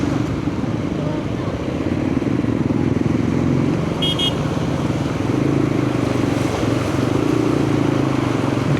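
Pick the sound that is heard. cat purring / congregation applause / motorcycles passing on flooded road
motorcycles passing on flooded road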